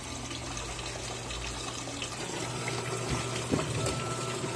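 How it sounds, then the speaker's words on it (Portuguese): An Electrolux 17 kg top-load washing machine fills with water for a rinse, giving a steady close rush and gush of running water with a low pump hum throughout, no voices. "A lavadora começou a enxaguar antes de dar o nível máximo"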